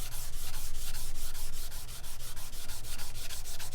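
Fine-grit sandpaper, 600 to 1000 grit cut into small sheets, is rubbed by hand over a vintage knife blade in quick rhythmic back-and-forth strokes, a close, steady scratchy hiss with a brief pause midway.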